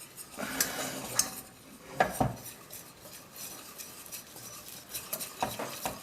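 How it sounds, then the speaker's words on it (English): A spoon stirring flour into melted butter in a saucepan to make a roux-style paste, with close, quiet scraping and clinking of utensil against pan in irregular bursts, no talking. "The butter's melted, and now I'm adding the flour, and I want to mix that in and start making a paste."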